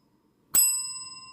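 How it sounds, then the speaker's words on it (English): A single bright ding from a bell, struck once after a near-silent moment and left to ring out with a clear sustained tone that slowly fades. "Ring the bell, Pam."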